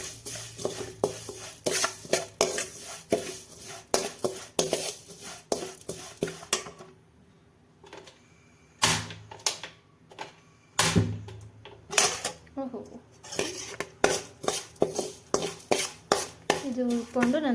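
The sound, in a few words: vermicelli being roasted and stirred in a pan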